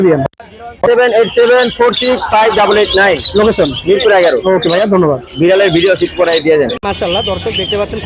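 Harsh Indian ringneck parakeet squawks repeat loudly and close by, mixed with chattering calls over a busy bird-filled background at a bird market in Mirpur 13, Dhaka.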